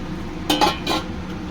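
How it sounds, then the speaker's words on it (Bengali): Three quick scrapes and clinks of a spoon against a pan, close and distinct, as potatoes are stirred into fried spice paste for dhokar dalna. "আলুগুলোর সঙ্গে 2-4 মিনিট আবার মশলাটা খুব ভালো করে নেড়ে নেব"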